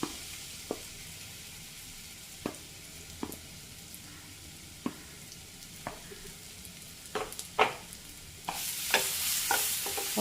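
Sliced plantain hits hot ghee in a pan with a steady sizzle, punctuated by sharp spoon clinks against the pan, then a louder, brighter frying hiss swells in the final seconds.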